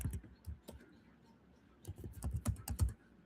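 Fingers tap away on a computer keyboard up close, a short burst of clicks, a brief pause, then a quicker flurry of keystrokes, with no talking.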